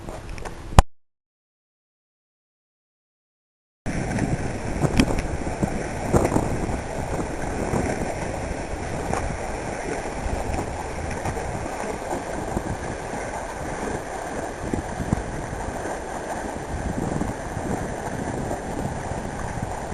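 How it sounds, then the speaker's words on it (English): Strong wind buffets a kayak paddling along the shore of Salt Spring Island, a steady, loud broadband roar and rumble against the microphone, cutting out briefly near the start before returning continuously. "Right now the winds are giving me a hell of a time."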